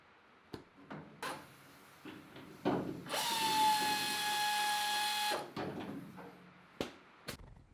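A power tool whirs steadily for about two seconds, spinning a nut off a bolt on a C10 pickup while two linked vice grips wedge against the bed, with scattered metallic clanks and handling knocks before and after.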